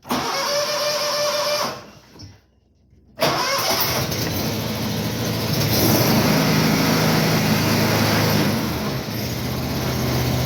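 A John Deere Ztrak 920M 60-inch zero-turn mower with about 2,800 hours and a new choke runs close, cuts out for a moment, then cranks and fires up into a steady, loud idle.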